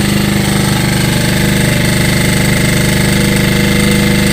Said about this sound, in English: it's idling correctly.